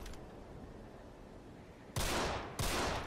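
Two sharp gunshots ring out in Deadfall Adventures about half a second apart, each a loud crack with a brief decaying tail, following a stretch of quiet ambient hum.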